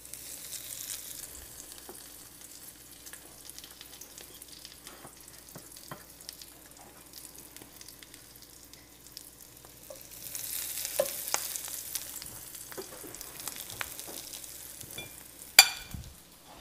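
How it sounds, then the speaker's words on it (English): Chicken pieces frying in hot oil in a pan for chicken cacciatore, a soft steady sizzle with scattered crackles that swells louder partway through, then a sharp clatter near the end. "that sizzle sound is the sound you know that the oil's at the right temperature"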